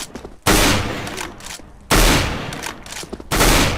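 Three loud gunshots in CS:GO ring out about a second and a half apart, each a sharp, close blast trailing into a rolling echo.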